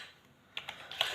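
Computer keyboard keys are pressed in a brief, quiet burst of a few close clicks, with no voices.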